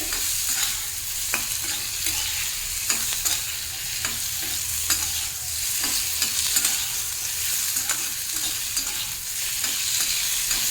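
Frying ridge gourd stirred repeatedly in a pan near the end of browning: a constant sizzle with frequent sharp spatula scrapes and knocks at an irregular rhythm, close and fairly loud.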